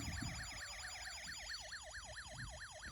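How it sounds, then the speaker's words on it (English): An electronic police-style siren from a Snap Circuits kit wails in rapid rising and falling sweeps, thin and toy-like, continuous for a few seconds with a faint motor hum beneath. "When I turn on the slide switch, you're going to hear a siren, a police siren"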